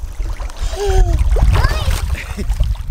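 A person jumps into water outdoors with a full, splashy slosh, surrounded by loud, excited voices of people talking and shouting nearby.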